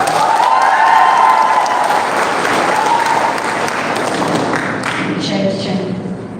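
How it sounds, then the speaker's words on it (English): Loud applause and cheering from an audience at a youth confluence event, dense clapping with voices and shouts mixed in, gradually thinning toward the end. "shall we give huge round of applause to East Street?"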